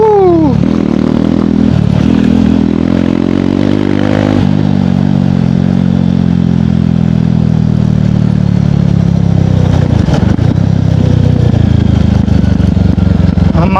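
A KTM Duke 390 motorcycle ridden at speed, its engine droning steadily close to the microphone with a few throttle shifts, clattery mechanical noise and wind rush throughout.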